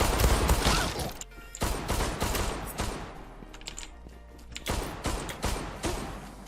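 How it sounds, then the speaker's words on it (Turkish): Rapid automatic gunfire in the game Zula rattles in repeated bursts separated by short pauses, loud and close, with mechanical clatter and thuds between volleys, with no talking. "Oğlum kaç tane mermi sıktın da ölmedim"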